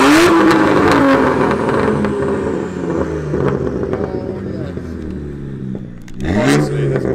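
A straight-piped BMW 135i coupe roars close by, revving hard and loud, then dropping back before another sharp blip near the end, with voices briefly heard underneath.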